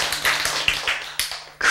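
Applause from a lecture audience breaking out in short, dense bursts of clapping that swell and fade over a couple of seconds, fairly close and with no voices over it.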